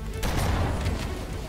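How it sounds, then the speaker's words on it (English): An explosion in Halo: Combat Evolved bursts out in a loud, dense rumble amid gunfire-like crackle, with a player's voice briefly over the game sound. "Oh, damn that explosion."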